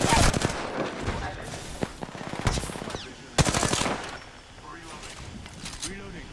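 Rapid automatic gunfire bursts in the Apex Legends video game, loud sharp volleys in clusters followed by quieter scattered shots and game effects, with a voice faintly present underneath.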